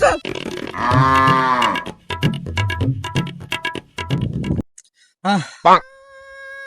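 A cow moos close by: a long, loud, drawn-out low call, then several shorter, rougher moos separated by brief pauses.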